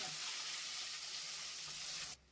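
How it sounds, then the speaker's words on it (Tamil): Shallots, garlic and onions fry in a pan for fish curry, a steady, close hiss of sizzling oil that cuts off abruptly near the end. "சின்ன வெங்காயம் பூண்டு எல்லாம் பெரிய வெங்காயம் எல்லாம் போட்டு நல்லா செவுக்க வதக்கலாம்ப்பா"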